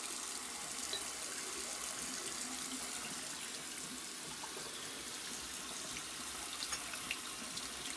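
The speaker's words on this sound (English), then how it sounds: "now I'm going to rinse these off and see how they look" Tap water runs steadily into a sink as a knife blade and its scales, just etched in ferric chloride, are rinsed, a faint continuous splashing hiss with small scattered clinks and no voices.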